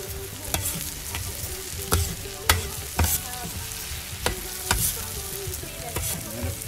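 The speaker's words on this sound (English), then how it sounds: "get it all nice and mixed in so the rice soaks up the flavors of apple, garlic, and tomato" Paella rice frying with apple, garlic and tomato while a spoon stirs through it, a continuous sizzle punctuated by irregular scraping and clacking strokes against the pan, close up with no talking.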